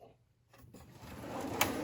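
A drawer in a small engine repair mechanic's tool chest slides open with a low, steadily building rolling rumble and a faint metallic click near the end, close and quiet, with no talking.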